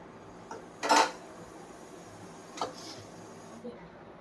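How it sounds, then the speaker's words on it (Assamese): A pan clanks down once onto a metal stove, followed by a softer clink and faint handling noises in a quiet kitchen. "এতিয়া আমি এখন পেনখন লগাই দিছোঁ।"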